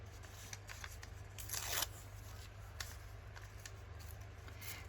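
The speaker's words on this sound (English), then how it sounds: "Not very good tearing of the paper." Paper torn by hand to make a painterly tab for a travel journal, a short rough ripping burst near the middle over a low steady hum, faint and close.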